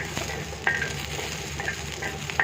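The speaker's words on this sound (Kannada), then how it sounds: "ಸ್ವಲ್ಪ ಎಣ್ಣೆ ಹಾಕಿಬಿಟ್ಟು ಈ ರೀತಿಯಾಗಿ ಎಣ್ಣೆಲೆ ಹುರಿಬೇಕು ಚೆನ್ನಾಗಿ ಬಾಡಿಸ್ಬೇಕು" Broken green chillies fry in a little oil in a pan, giving a steady, close sizzle with soft stirring scrapes and a few light clicks.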